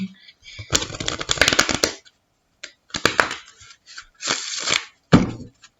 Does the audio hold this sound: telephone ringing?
no